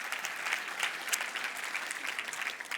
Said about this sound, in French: Donc, oui, vous pouvez applaudir comme il faut, tant qu'à faire,